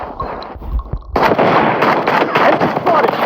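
Automatic shotgun firing Dragon's Breath incendiary rounds in a video game: after a quiet opening, a rapid string of loud, dense blasts fills the rest of the clip with crackling fiery bursts.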